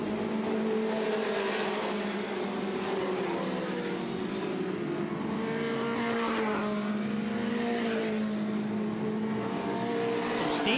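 Dirt track race cars at Southern Ontario Motor Speedway, with the leader working around slower cars as engines drone and shift pitch in a steady loud roar across the whole stretch.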